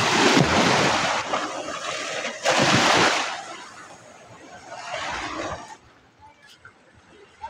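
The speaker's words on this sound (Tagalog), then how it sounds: "ganyan kalakas ang alon dito" Strong sea waves break on the shore beside a beach walk in Balatan, Camarines Sur, Bicol, in loud rushing surges with wind buffeting the microphone, then ease to a softer wash.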